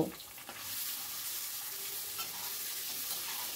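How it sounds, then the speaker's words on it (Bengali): Marinated eggs frying in hot mustard oil, a steady, soft, even sizzle with faint stirring, heard alone and fairly quiet throughout. "তেলটা যখন গরম হয়ে গেছে, তখন ম্যারিনেট করা ডিমগুলো আমি এর ভেতর দিয়ে দিচ্ছি। দিয়ে ডিমগুলোকে একটু ফ্রাই করে নেব।"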